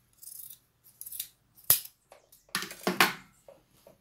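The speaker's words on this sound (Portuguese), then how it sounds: "Aqui também vou cortar, ó." Scissors snip off fabric thread ends at close range in several sharp, irregular cuts, including one crisp loud snip and a quick cluster of clipping near the end, with no talking.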